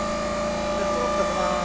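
Plow ELS10 electric log splitter starting up, a steady motor drone with a hum and whine holding at even loudness throughout, close by with no talk over it.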